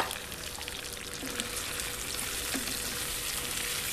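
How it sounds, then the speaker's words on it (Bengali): Chicken frying in oil with spices for biryani makes a dense, continuous sizzling crackle at moderate volume, with no voices. "প্লাস মুরগিটাও কিন্তু তেলের মধ্যে ভাজা হয়ে যাবে।"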